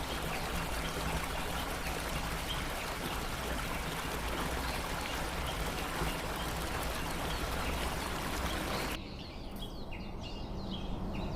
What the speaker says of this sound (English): In the heart of Val Calnegia, the Foroglio Waterfall cascades 110 meters into the depths.